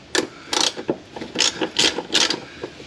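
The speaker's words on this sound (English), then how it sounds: "Now there's 2 bolts that hold the centre bearing in place. We'll just crack them off." Wrench cracking loose the centre bearing bolts on a Commodore driveshaft, a series of short rasping ratchet clicks in quick irregular bursts, close and alone.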